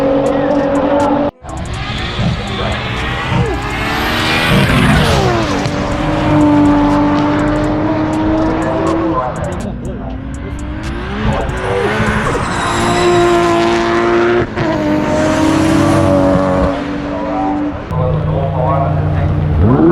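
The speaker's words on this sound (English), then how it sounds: "I think there's some road racing going on" Cars road racing at a GTR festival in New Zealand, engines revving and roaring past in repeated surges with tire squeal, fairly near and loud, while people talk nearby over the noise.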